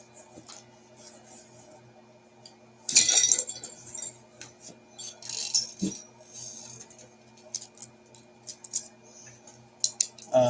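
Small metal and plastic tools from a gun cleaning kit clatter and clink as they are rummaged through, with sharp bursts of rattling, scattered chinks and softer rubbing sounds, close by and with no talking.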